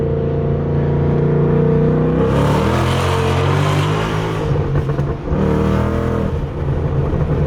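A supercharged Mustang fitted with a Whipple supercharger accelerates hard, its engine roaring loud and close in one continuous, rising pull with no voices over it.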